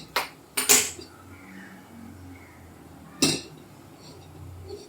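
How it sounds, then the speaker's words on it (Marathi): A metal kadhai is set onto a gas stove in a home kitchen, giving a few sharp clanks and clinks close by, followed by a quieter final knock. "इकडे मी कढई ठेवणार आहे"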